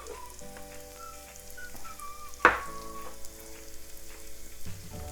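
Onion sizzles softly in a pan during cooking, a quiet steady frying hiss with one sharp clatter partway through and faint tonal background noise.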